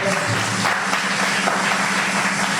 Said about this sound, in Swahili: Ongeza makofi mazuri.